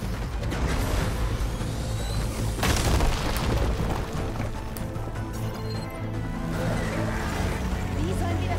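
Gunfire and explosions in Horizon Forbidden West: Burning Shores on PS5, a dense continuous barrage with a heavy booming burst near the middle and rumbling low-end throughout, partly under talk.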